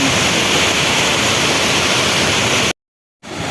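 Continuous close roar of water tumbling down Mae Klang waterfall, Doi Inthanon, Thailand, cut off abruptly into a brief silence before the rush returns at the end; no talk.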